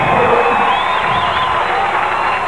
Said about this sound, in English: Crowd gives Lackemeyer a well-deserved hand.